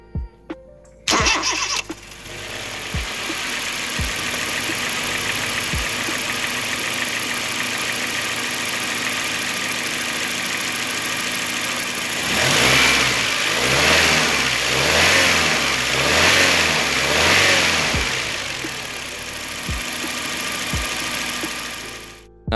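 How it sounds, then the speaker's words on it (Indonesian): A 2005 Honda Jazz GD3 i-DSI with Triptonic automatic starts with a sharp crank, settles into a steady idle, then revs several times in rising and falling surges before dropping back to idle, loud and close. "sekarang paling kita langsung dengerin aja gimana suara mesinnya"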